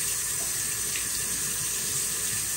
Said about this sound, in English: Give it a good rinse. Rinse your meat.